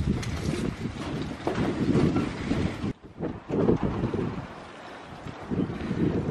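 Strong wind buffeting the microphone outdoors on a cold, deserted evening, loud rumbling gusts that drop away for a moment and then return, with no one talking.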